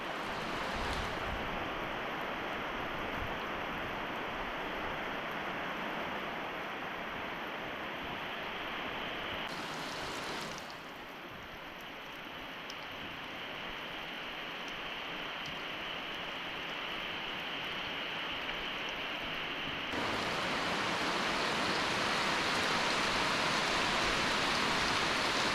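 Heavy rain pours down steadily during a windy storm at a house, a dense broadband hiss that continues without a break. The hiss grows slightly louder in the last few seconds.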